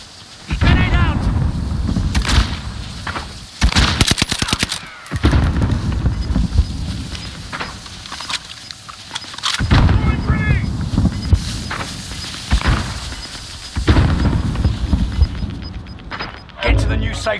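Grenade explosions and gunfire in a battle royale video game arrive as loud, repeated broadband bursts and rapid crackling volleys, with voices calling out over the combat throughout.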